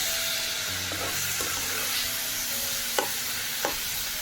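Greens are fried with tempering in a pan, giving a steady, close sizzle with occasional stirring clinks and scrapes over a low continuous hiss.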